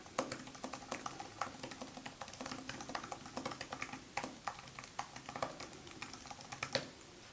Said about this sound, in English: and then I'm gonna type.